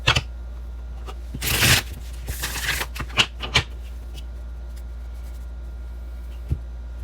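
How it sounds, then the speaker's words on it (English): Tarot cards are shuffled up close in a couple of quick riffling bursts, followed by a few lighter taps and card flicks, with no talking. "do not shuffle my cards that way"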